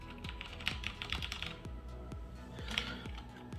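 Fast, steady keystrokes clatter up close on a HyperX Alloy FPS Pro keyboard with Cherry MX Red switches, each press a crisp tap with no talking.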